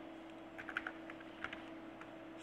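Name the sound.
typing a taxi number on a computer keyboard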